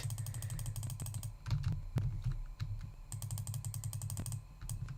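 Rapid computer mouse and keyboard clicking while gaming on a Mac, fast rhythmic ticking bursts up close with short pauses and a few sharper isolated clicks, no game audio behind it.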